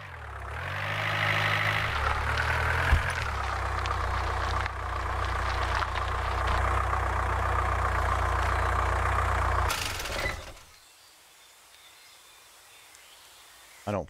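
A car engine drives steadily in the Survive the Nights video game, droning loud for about ten seconds with a gear shift early on, then cutting out abruptly to near silence before a brief final sound.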